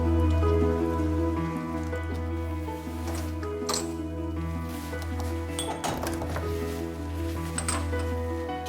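Sudden rain on Filicudi island falls in a steady, dense patter with scattered sharp drips and clinks against hard surfaces, continuous and fairly close throughout.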